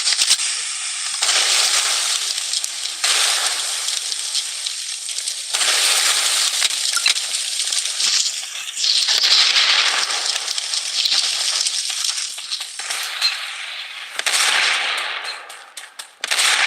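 Gunfire and battle noise in the mobile shooter Blood Strike, bright crackling bursts of shots that swell and fade in waves, harsh and loud with almost no low end.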